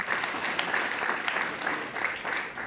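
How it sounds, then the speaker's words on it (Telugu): At an indoor meeting in a function hall, an audience claps steadily in dense, sustained applause, moderately loud throughout with no pauses. "ఒకసారి గట్టిగా క్లాప్ చూడండి సార్"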